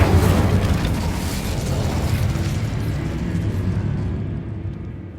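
An Incendio fire spell in the Hogwarts Legacy video game bursts into a loud, roaring whoosh that slowly fades over several seconds.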